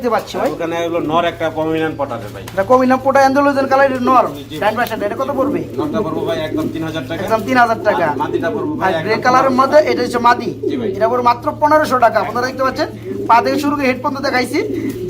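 Many pigeons cooing at a large pigeon farm in Dhaka district, repeated throaty coos overlapping continuously and close by, with someone talking throughout.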